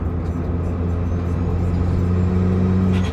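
A continuous low engine rumble as a turbocharged Honda Brio accelerates, throaty and steady with a faint rising whir near the end.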